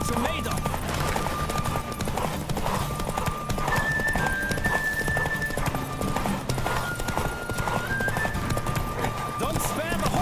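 A horse gallops in The Witcher 3: Wild Hunt on PlayStation 5, with rapid, steady hoofbeats throughout and a brief whinny, set against sustained tonal game sounds.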